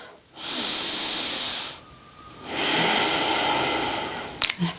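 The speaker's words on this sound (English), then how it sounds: "Just take a nice deep breath." A calm, slow deep breath during a gentle morning yoga routine: a long airy inhale, a short pause, then a longer exhale, close and clear with no talking.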